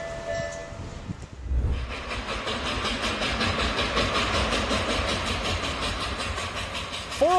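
A small train runs along rails beside the ocean, a steady rolling rumble with rhythmic clacking from the wheels and a brief whistle-like tone near the end.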